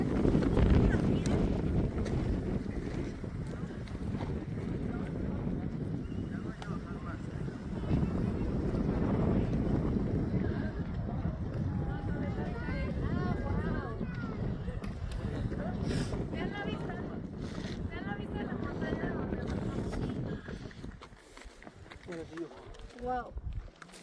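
Steady outdoor wind at a petrified waterfall in Mexico roars and buffets the microphone throughout, a broad continuous rush that eases briefly near the end.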